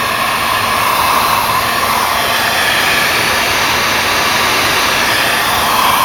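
A heat gun blows hot air onto a plastic firewall clip to soften it off the wiring of a 1979 Chevrolet Caprice with an LT1 engine, giving a loud, steady, unbroken whoosh with no talking.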